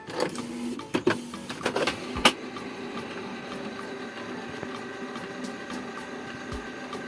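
A Canon G2010 inkjet printer prints on bond paper: a few sharp mechanical clicks and clatters in the first seconds, then a steady, moderately loud whirring feed that runs on alone.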